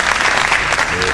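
Dense applause from a crowd at a local metal music show, a brief loud burst of continuous clapping heard up close.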